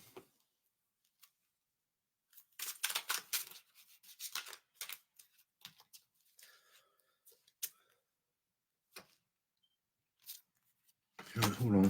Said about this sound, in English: Hold on, I didn't shuffle them properly.